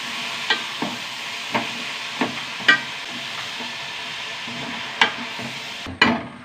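Cabbage stir-fries in a pan with onion, dried red chilies, curry leaves, green chili, salt and turmeric over a steady sizzle. A spatula clinks and scrapes against the pan in a regular rhythm, close and clear.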